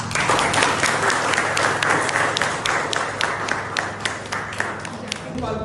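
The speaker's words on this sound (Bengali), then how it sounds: "সনির্বন্ধ আমন্ত্রণ জানাচ্ছি একটা জোরদার করতালির মাধ্যমে" An audience at a theatre gathering applauds to welcome a theatre director, sustained dense clapping from many hands filling the room for several seconds, close and steady.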